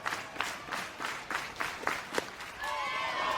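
A softball crowd at a Volts vs. Talons game in Tuscaloosa, Alabama, reacts with scattered clapping and a rising murmur after a pitch. The reaction is moderately distant and swells near the end.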